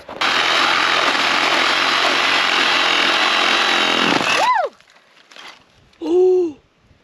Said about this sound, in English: You're going to start the chainsaw